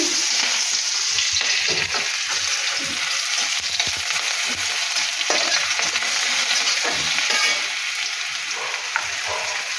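Potatoes fry in a pan with ajwain, nigella seeds and green chilli, a constant loud bright sizzle with occasional stirring scrapes, close and uninterrupted.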